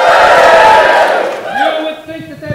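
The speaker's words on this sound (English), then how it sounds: "If you happen to like something, you cheer madly." A poetry slam audience roars and cheers loudly, a dense crowd burst that fades over about two seconds as a speaker's voice comes through.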